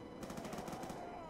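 Rapid automatic gunfire in the Mob of the Dead zombies mode of a video game, a fast rhythmic burst of shots that runs steadily for about a second, loud and up front.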